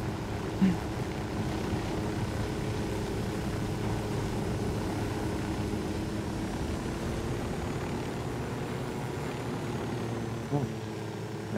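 Helicopter in a Ghost Recon Wildlands video game, a steady droning rotor and engine hum that holds at an even level throughout, with a few faint brief bumps on top.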